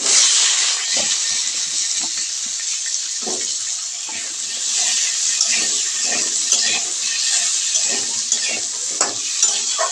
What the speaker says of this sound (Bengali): আলুগুলো কড়াইতে দিয়ে আমি ভেজে নেব।